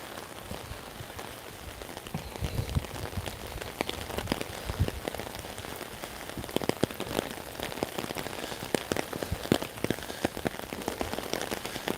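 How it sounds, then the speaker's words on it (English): Hurricane Ian rain in Beaufort pelts a surface in a steady, dense patter with gusty wind, close and continuous throughout, with no talking. "I can feel more wind blowing on the back of my head."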